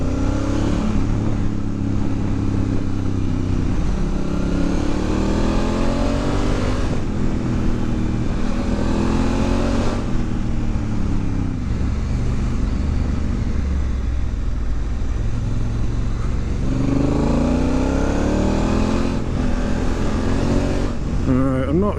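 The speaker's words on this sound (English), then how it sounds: "I do like this manual Africa Twin." Manual Honda Africa Twin motorcycle ridden on Canary Islands roads, engine droning steadily with rising and falling pitch through gear changes, loud and continuous under wind.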